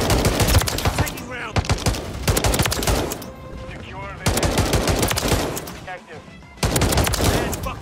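The DM56 Immolator marksman rifle fires in Modern Warfare 3 in loud, close bursts of rapid sharp shots, separated by brief pauses and several short gaps.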